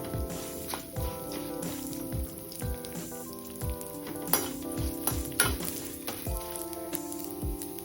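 Chana dal and fresh coconut fry in a pan with a constant close sizzle, while regular knocks and scrapes of a spoon against the pan keep time and faint music plays underneath.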